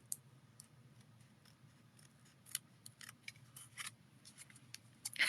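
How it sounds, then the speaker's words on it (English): Scissors snip and trim around a small section of paper while making Santa belly treats, a quiet run of crisp little cuts scattered across the clip over a low steady hum, no talking. "You take your scissors and you're going to round this little section."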